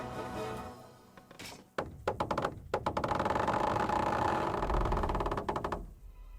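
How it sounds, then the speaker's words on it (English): A siege trebuchet in Kingdom Come Deliverance releases a shot at castle walls: a heavy wooden thunk, then a rapid ratcheting clatter and a sustained rumbling creak that gradually fades. "That was just the first shot. The trebuchet has to be calibrated."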